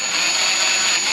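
A power drill boring a small 1/8-inch pilot hole through the body panel of a Cadillac CTS-V, one steady loud high-pitched whine filling the short moment without pause.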